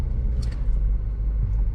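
A BMW's low, steady engine rumble fills the space at close range as it reverses out of a driveway, with a faint higher scrape or two over the drone.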